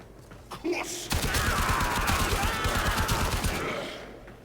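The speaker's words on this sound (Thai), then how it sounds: "กดคลิกซ้ายเพื่อยิงปืนครับ" Rapid automatic gunfire in the Warframe shooter game, a sustained burst of closely spaced loud shots lasting about two and a half seconds, preceded by a couple of brief mechanical sounds and fading at the end.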